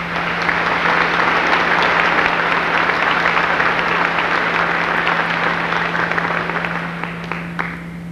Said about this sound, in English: if we would give them a round of applause for their